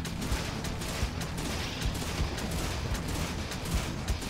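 Rapid gunfire from an air battle in the video game Megaton Musashi, a steady stream of sharp shots and booms layered over continuous game noise, with no talk.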